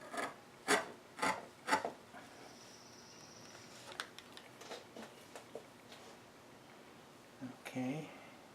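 A 3/8 chisel squaring a dovetail socket in wood: three sharp close rasping strokes, then quieter scattered scrapes and taps, with a final short scraping burst.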